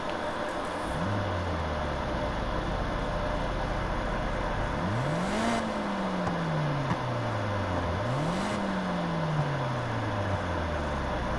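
A completely stock car in the racing game Need for Speed Heat starts up, and its engine rises in a few revs that climb and then settle back over a steady idle hum and background noise.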